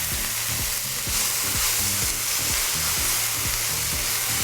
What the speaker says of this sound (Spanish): Vamos a poner de una vez el espagueti. Vamos a mezclar.